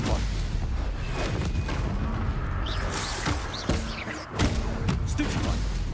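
Bombarda spell blast in Hogwarts Legacy combat, heavy booming explosions and thuds layered into a dense, continuous roar of battle effects with a few brief sharper bursts.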